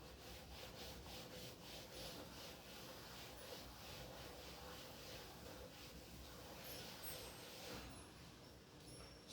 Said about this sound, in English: So I'm rubbing the board.